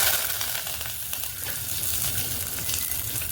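Mustard seeds, cumin and curry leaves sizzling in hot oil for a Rayalaseema-style curry: a loud, bright, continuous crackling hiss with a few popping spurts, close by and alone.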